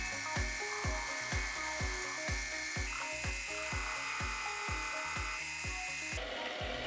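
A small rotary tool bevels the edges of a handmade ring in a fast, even string of rhythmic grinding pulses, close and steady, and its pitch shifts partway through, with no talk.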